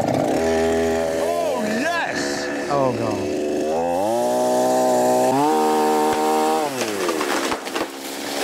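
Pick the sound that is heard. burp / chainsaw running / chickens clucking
chainsaw running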